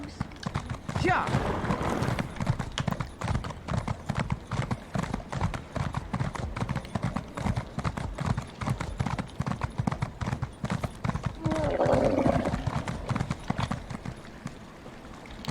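Horse hooves clip-clopping in a fast, steady rhythm while riding in Elder Scrolls Online, continuous and close throughout, with game voices and music beneath.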